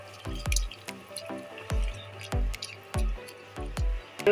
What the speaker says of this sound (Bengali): আমি একটু জল দিয়ে দেবো